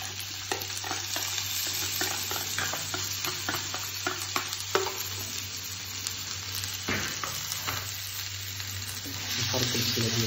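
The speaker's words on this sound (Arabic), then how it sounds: "كنزيدوا البصله ديالنا تشحر" Onion sizzles steadily in hot olive oil while a spoon stirs it, giving a continuous close frying hiss broken by scraping strokes, with no talking, as the base for a Moroccan chicken and vegetable tajine.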